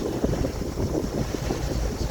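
Wind blowing over a sailboat at sea, a steady, moderately loud low rush with faint wave wash, continuous and without voices.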